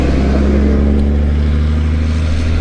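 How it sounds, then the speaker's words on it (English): Idling vehicle with a loud exhaust, a steady deep low rumble with a throbbing drone, close and loud and unbroken throughout. "I have about zero luck when it comes to vehicles with loud exhaust."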